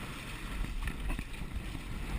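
Wind and water wash around a small sailboat as it turns on the water, a steady, quiet rushing broken by soft splashes and flutters of the sail.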